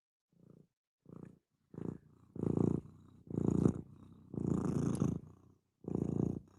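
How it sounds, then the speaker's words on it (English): A house cat, just woken from a nap, purrs close and intimately in a series of rhythmic rumbling bursts, each inhale and exhale separated by short gaps, growing fuller and longer as it goes on. "Cat ASMR."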